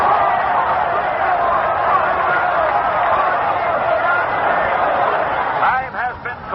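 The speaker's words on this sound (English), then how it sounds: "Listen to this crowd in the Yankee Stadium." A large stadium crowd at Yankee Stadium roars during an Army vs Notre Dame football game. The broad, steady wash of noise is thin and band-limited, like an old broadcast, and a voice emerges briefly near the end.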